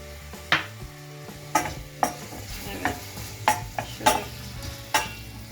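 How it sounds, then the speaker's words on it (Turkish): Onions and carrots sautéing in a pan for an orange-braised celery dish, a soft background sizzle broken by about eight distinct spoon scrapes and knocks against the pan, with no talk. "havuçlarımı da soğanlarla birlikte biraz pembeleştiriyorum, kavuruyorum"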